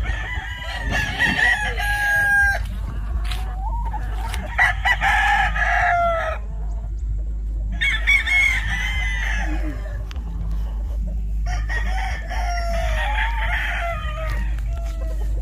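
Sweater gamefowl roosters at a game farm crow repeatedly, several loud overlapping cock-a-doodle-doos in bursts over a low steady hum, with occasional clucks between.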